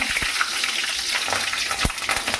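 Garlic and onion sizzle and fry loudly in hot oil in a wok, with a few quick stirring scrapes and no voices.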